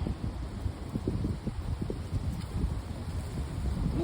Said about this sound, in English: Wind's blowing in my ear.